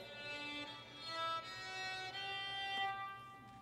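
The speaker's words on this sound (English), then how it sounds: "if I do ponticello, it sounds like this." A bowed violin played sul ponticello has a glassy, whistling tone rich in high overtones, sustained notes shifting slowly, quiet and close.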